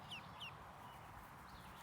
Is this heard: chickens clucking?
yes